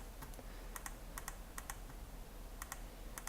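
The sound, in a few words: computer mouse clicking while editing photo highlights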